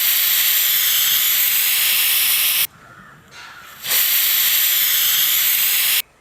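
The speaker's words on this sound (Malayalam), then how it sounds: "ഇപ്പോൾ 2 വിസിലായി." A pressure cooker on a lit stove, cooking for a bitter gourd curry, whistles and vents steam in loud, harsh hissing bursts that break off briefly in a short quieter gap before the hiss surges back.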